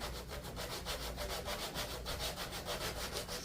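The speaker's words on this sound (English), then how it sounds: "I'm just going to smooth it out by using the sander" A small electric finger sander smoothing a wooden craft piece, giving a fast rhythmic scratchy rubbing that pulses evenly and stays close and steady throughout.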